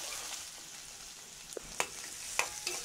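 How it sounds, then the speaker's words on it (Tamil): Finely chopped onion sautéing in oil in a pan, a soft, even sizzle with a few sharp crackles and spatters toward the end. "நல்லா வந்து இந்த வெங்காயத்தை வந்து வதக்கிக்கலாம்."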